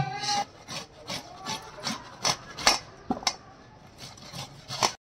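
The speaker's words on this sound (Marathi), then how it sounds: "आता ह्या किसणीने आता याला किसून टाकते।" Fresh carrots are grated by hand on a grater for gajar halwa, giving a series of quiet, rhythmic rasping strokes, about a dozen irregular scrapes close by, with no talking.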